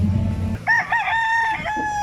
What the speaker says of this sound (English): As you can see from the roosters,